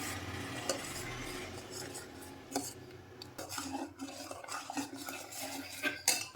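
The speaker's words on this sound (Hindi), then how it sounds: "बार बार इसको घुमाते रहना पड़ता चम्मच में" A spoon stirring a thick desi ghee sweet mixture in a pan, with irregular scraping and clinking strokes against the metal over a soft sizzle, moderately close and no voices.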